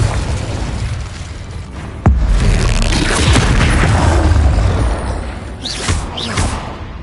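Spell blasts from the video game Hogwarts Legacy, a sudden loud boom near two seconds followed by rumbling bursts and crackling impacts, with a couple of sharp whooshing flourishes toward the end.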